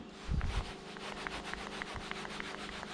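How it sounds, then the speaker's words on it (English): A cloth patch rubs back and forth inside the barrel of a CZ 75 SP-01 Shadow pistol to dry it. Close, steady scrubbing strokes repeat evenly, with a heavier handling thump near the start. "take a clean 2x4 and then dry out the barrel and remove all the residue"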